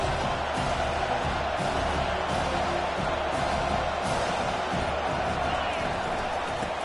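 A large football stadium crowd at an NCAA college game roars and cheers in a steady, dense wash of noise, with a commentator talking over it.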